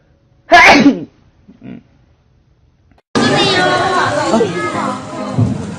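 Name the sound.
sneeze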